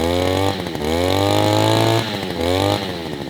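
A cheap 52cc string trimmer engine runs with its trimmer head removed, buzzing loudly up close and rising and falling as the throttle is opened and eased several times.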